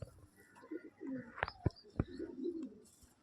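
Large, restless pigeons give soft low coos and rustles, with a few sharp clicks or flaps, close by and faint, while someone talks intermittently.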